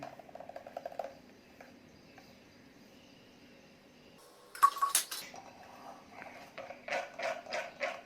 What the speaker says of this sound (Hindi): अब इसे हम छान लेंगे ताकि इसका छिलका और बीजे इसके अलग हो जाएं।